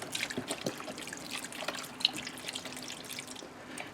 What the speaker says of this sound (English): I'm going to add 32 ounces of beef broth